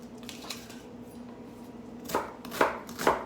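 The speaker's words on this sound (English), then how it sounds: "Just gonna chop up some onion" Onion being chopped with a knife, soft cuts at first and then three louder, distinct knocks against the board near the end.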